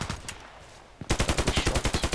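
Gunfire in the shooter game Contract Wars: a couple of scattered shots, a short lull, then a rapid automatic burst of about a dozen sharp, loud cracks in quick, even succession.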